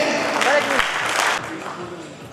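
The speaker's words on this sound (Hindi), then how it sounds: "तो प्लीज जोरदार क्लैप कर दीजिए क्योंकि ये जम्मू में है।" An audience at a seminar in Jammu claps together in a loud burst that gradually thins out. Voices talk over the applause.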